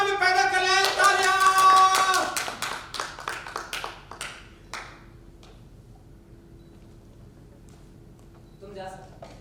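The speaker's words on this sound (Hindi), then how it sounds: "तालियां!" Audience at a theater festival performance clapping, a burst of sharp claps that thins out over the first few seconds and leaves quiet room tone.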